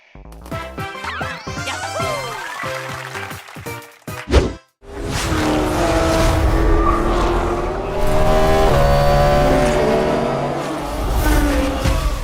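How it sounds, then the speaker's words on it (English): Racing cars in the Forza Motorsport video game roar loudly with revving engines and tire squeals, and a brief sharp hit breaks a short silence before a sustained full-throttle engine drone resumes. "One of the most anticipated racing games of the month is Forza Motorsport."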